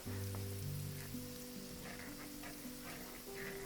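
Garlic fries in a frying pan with a knob of butter, giving a soft, steady sizzle and crackle that stays even and faint throughout, with no voices.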